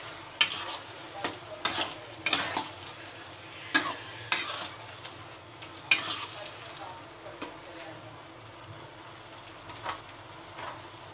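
Roasted brinjal (baingan) stirred and mixed in a pan for bharta, with repeated scraping spatula strokes over a soft continuous sizzle, close and moderately loud.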